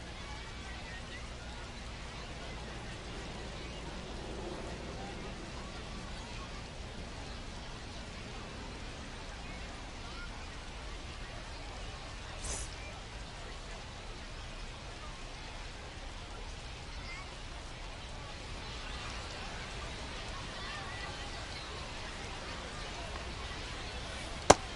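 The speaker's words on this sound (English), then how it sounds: "It feels like we might be headed towards a rain delay if the weather doesn't ease up, Chris." Steady, even rain hiss from an MLB The Show 25 ballgame runs through the whole stretch at moderate level, a continuous wash of falling rain with no breaks, a single sharp tick near the very end.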